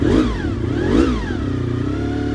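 A 1990 Honda VFR400R NC30 motorcycle engine idles just above 1,000 RPM, a steady close mid-pitched drone with slight rhythmic surges and no talk.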